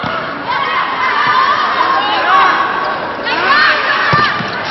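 A loud volleyball arena crowd roars and shouts continuously in support of the Philippine Army team during a finals match against Vietnam, with swelling cheers and an occasional thud of the ball.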